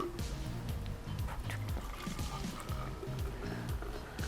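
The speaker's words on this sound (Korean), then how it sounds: "일단 이 보틀에 탄산수를 넣어줄게." Sparkling water is poured into a bottle in one steady, close stream of splashing and fizz that runs through the whole moment.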